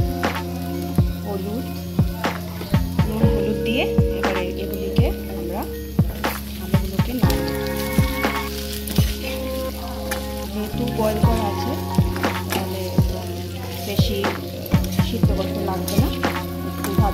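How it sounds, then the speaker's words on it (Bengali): Boiled potatoes frying in hot oil in a kadai, a steady crackling sizzle with scattered pops running throughout, close and fairly loud over a continuous tonal background. "সেই তেলেই আমরা আলুগুলো দিয়ে দিয়েছি সিদ্ধ করে"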